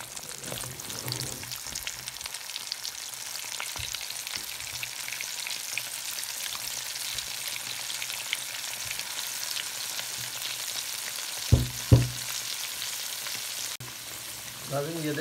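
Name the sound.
chicken broast coated in cornflour deep frying in oil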